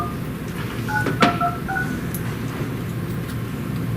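Telephone keypad tones sound as a number is dialed for a city council phone call, a short run of beeps in quick succession, a few of them overlapping, over a loud, steady room hum.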